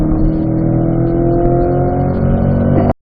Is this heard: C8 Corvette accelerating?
yes